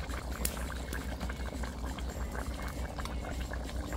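Curry sauce simmering in a pan over a fireside chulha with snapper head fish, bitter melon and green mango, giving a steady, close bubbling and sizzling boil that runs unbroken throughout.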